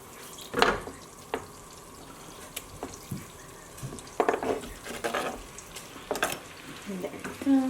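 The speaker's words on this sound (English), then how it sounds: "Then we're gonna make butter melt first." Half a cup of butter melts and sizzles in a pan, with bursts of crackling and scraping stirs, nearby and moderately loud, with faint drips.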